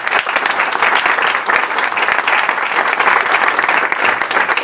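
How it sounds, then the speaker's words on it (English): Steady, dense audience applause fills a meetup room after a speaker is introduced, loud and even throughout with no break. "let's give him a big applause"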